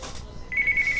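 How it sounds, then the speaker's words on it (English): A phone rings with a short electronic ringtone that begins halfway through after a moment of near quiet, a single bright warbling tone heard alone. "That's Uncle Larry. It's going to voicemail"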